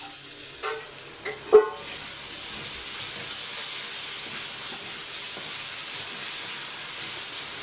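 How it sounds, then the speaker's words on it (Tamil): Chicken frying in a pan hisses with a steady, bright sizzle that continues throughout, punctuated early by a few brief clanks and scrapes of stirring. "சிக்கனை சேர்த்து ஒரு பரட்டி பரட்டி ஒரு ரெண்டு செகண்டு வதங்கட்டும்"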